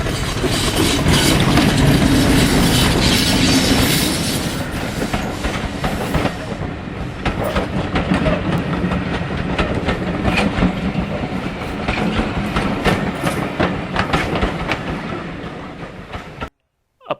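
A Class 50 diesel locomotive departs, rumbling away with a heavy, steady engine roar and rattling wheels, loud at first and easing slightly as it moves off.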